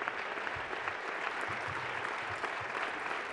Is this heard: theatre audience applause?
yes